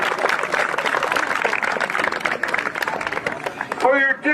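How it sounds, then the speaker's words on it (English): A crowd at a Major Softball district championship applauds and cheers for a few seconds, a scattered wash of clapping from the stands with a voice rising over it near the end. "let's have another round of applause for Mountaintop"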